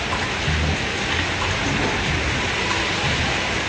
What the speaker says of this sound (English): if you look at the floor, you can see it's pouring with rain.